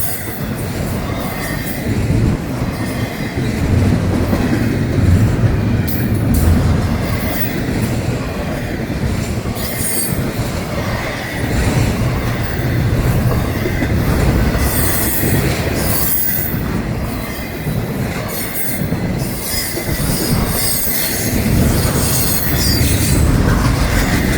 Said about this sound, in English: Mega train here on the Florida East Coast Railway